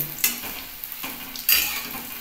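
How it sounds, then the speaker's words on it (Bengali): Cauliflower pakoras in a batter of egg, cornflour, rice flour and gram flour sizzle steadily in hot oil, with a few sharp stirring scrapes and utensil clinks over a continuous frying hiss. "এইবার আমাকে একটু পকোড়াগুলো একটু লাল লাল করে ভেজে নিতে হবে।"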